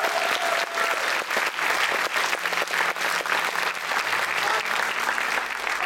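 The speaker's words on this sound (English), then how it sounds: "Please a round of applause for them." A demo day audience applauds, dense sustained clapping from a crowd filling the room, loud and steady from start to finish with no break.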